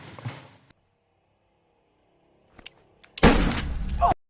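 A gunshot in an Indonesian gangster film scene, heard as a sharp crack followed by a loud roaring burst after a mostly quiet stretch with a faint earlier sound.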